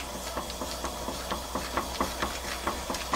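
Balloonflower root syrup with honey bubbling in a pot at a boil, a continuous close hiss with soft, rhythmic bubbling pops, no talking.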